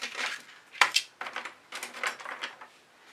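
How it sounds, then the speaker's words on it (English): Spatula tossed into a bucket, giving a sharp metallic clatter followed by a few lighter rattling knocks and scraping sounds over about three seconds, close and moderately loud. "I was going to throw the spatula in the bucket"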